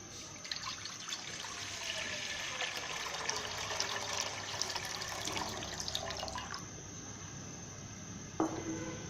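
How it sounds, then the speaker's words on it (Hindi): A jug of water pours steadily into a pot on a stove for about six seconds as a broad rushing splash, then stops, followed by a single light clink. "हमने बर्तन को चूल्हे पे रख दिया है। अब हम इसमें 1 जग पानी ऐड करेंगे।"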